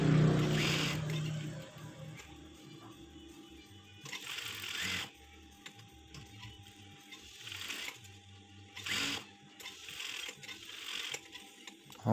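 Sewing machine stitching the side seam of a fabric pocket, its rapid mechanical clatter coming in several bursts separated by brief pauses, close and fairly loud with no speech over it.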